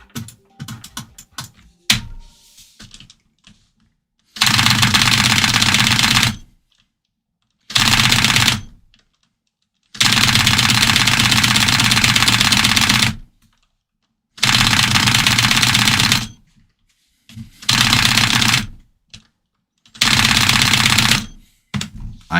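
Bursts of rapid, dense keyboard key clicking from a zero-debounce keyboard, loud and close, coming in several sustained runs of about two seconds separated by short silences.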